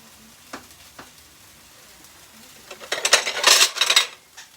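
Beef fries in a pan, a quiet scrape and tap at first, then a louder burst of sizzling and stirring clatter lasting about a second and a half before it fades.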